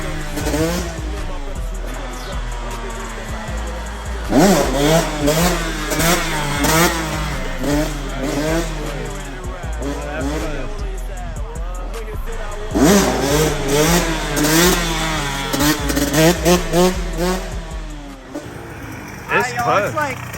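A two-stroke dirt bike engine during wheelie practice, revving up and down in repeated surges close to the microphone, with people talking in between and over it.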